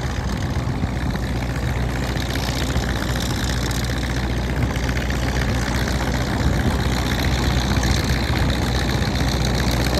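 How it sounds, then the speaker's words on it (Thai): Hino V8 F24 diesel engine of about 380 hp mounted on a soil tiller truck, idling loudly and close by with a deep, steady, unbroken rumble and no voices. "ไปก็เครื่องยนต์ฮีโน่ V8 ครับรหัส F24 ครับประมาณ380แรงม้า"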